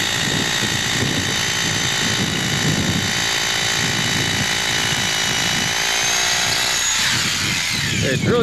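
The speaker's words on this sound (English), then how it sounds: "drill your first hole and then just test the depth" A power drill bores anchor holes into a commercial swimming pool deck for a dome cover installation, whining loudly and steadily for several seconds with grinding bursts, up close and without talk.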